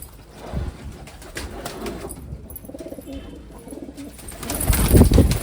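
Teddy golden pigeons cooing up close, with deep, rolling coos repeating in soft bursts that swell louder toward the end, with faint background voices.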